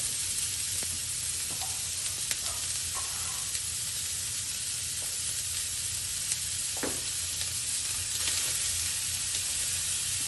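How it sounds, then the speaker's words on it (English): Vegetables saute in about two tablespoons of olive oil in a pot, giving a loud, steady sizzling hiss throughout, with occasional soft stirring scrapes and clicks. "And then you're going to saute this for a couple of minutes"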